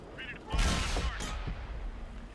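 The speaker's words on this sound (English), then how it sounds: "And Mad's shooting at him." Tank cannon fire in the console game World of Tanks, an AMX 30 engaging an enemy tank destroyer: one loud, near blast with a sharp onset and a rumbling tail, followed by a fainter second shot.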